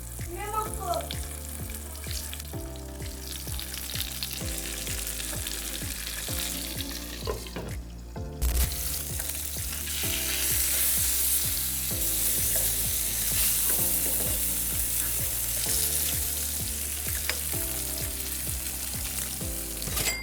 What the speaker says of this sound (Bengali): ফ্রাই প্যানে একটুখানি তেল দিয়ে দিব।